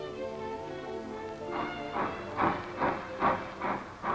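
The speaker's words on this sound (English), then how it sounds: "Here's a freight train pulling out." A Pennsylvania Railroad freight train pulling out, starting with a steady hum and building into rhythmic, evenly spaced chuffing bursts that grow louder as it gets underway.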